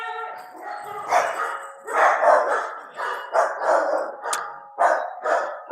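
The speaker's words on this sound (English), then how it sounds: "And the dogs have to say hello." Dogs bark in repeated loud, close bursts at someone arriving at the door, with a few yips between them and no talk.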